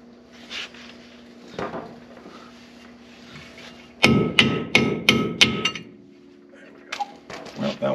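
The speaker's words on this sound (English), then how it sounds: "let's just smack it with a hammer and see what" A hammer strikes a metal car part in a garage with five quick, sharp, loud blows in a row, followed by a single later knock, alone without talk.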